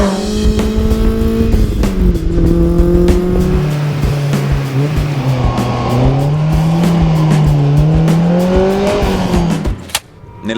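A 1980s BMW M3 E30 sports car being driven hard, its engine loud and close, revving up and down through gears with rising and falling pitch and a brief drop near the end.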